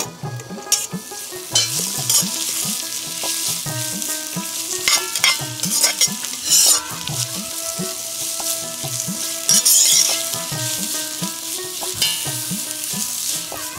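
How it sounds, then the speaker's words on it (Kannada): Chopped onions fry in ghee in a pan for Kashmiri pulao, a close, steady sizzle broken by repeated scraping stirs of a spoon against the pan, with no talking. "ಇನ್ನೀಗ ತುಪ್ಪ ಹಾಕಿ ಒಂದು ಬಾಣಲೆಯಲ್ಲಿ ಈಗ ಕೊಚ್ಚಿದಂಥ ನೀರುಳ್ಳಿಯನ್ನು ಒಳ್ಳೆ ಕೆಂಪಾಗಿ ಹುರಿಬೇಕು."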